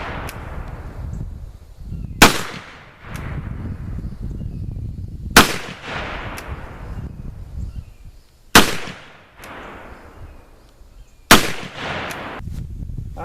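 A Dixie Snubnose percussion revolver fires four sharp, loud shots about three seconds apart at a bullseye target 15 yards away. Each crack is followed by a short decaying echo and quieter handling noise between shots.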